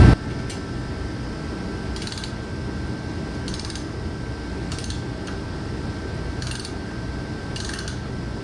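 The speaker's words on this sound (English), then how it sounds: "when we turn the crank, it's tight enough that it actually moves it" A hand crank turns the tarp drive cable pulley on an International 9370 tri-axle dump truck, giving repeated short mechanical clicks and ratcheting creaks at a slow, roughly even pace over a steady background.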